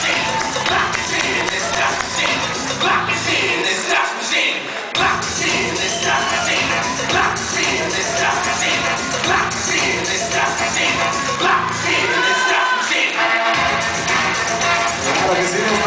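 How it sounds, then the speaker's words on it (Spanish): Loud, dense applause from the audience at a quinceañera celebration after the choreographed dances, a steady wash of many hands clapping that runs unbroken for about sixteen seconds, with crowd noise mixed in. "¡Fuerte los aplausos!"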